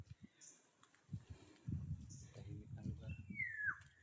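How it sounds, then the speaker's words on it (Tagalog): Forest birds calling near a cave, with a couple of faint high chirps and a clear downslurred whistle near the end, heard beneath nearby talking and movement. "Grabe, yung mga ibon lang talaga yung marinig mo, di ba?"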